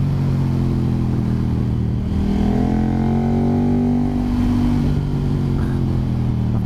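A big naked sport bike on a twisty road pulls out of a corner, its engine climbing steadily in pitch as it accelerates hard. The loud, close rising drone has no speech over it.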